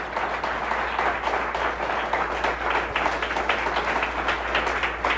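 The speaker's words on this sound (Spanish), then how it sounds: "Un aplauso al Rey en esta mañana." A church congregation applauds during a Spanish-language Christian sermon, a dense, steady wash of many hands clapping throughout, fairly loud and continuous with no break.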